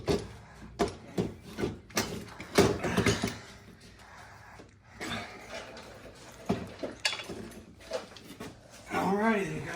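Metallic clunks, scrapes and rubbing knocks from a Honda TRX 300EX engine bottom end being worked loose and pulled out of its frame, irregular bursts close by, with a voice talking in between.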